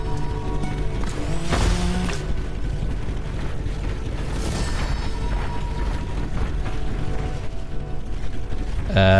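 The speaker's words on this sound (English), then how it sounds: "especially the spike saw. It sounds like a real, you know, mech machine." Spike saw machine in the game Lightyear Frontier, a loud mechanical whirring and ratcheting with creaky metallic bursts, continuous and close for several seconds.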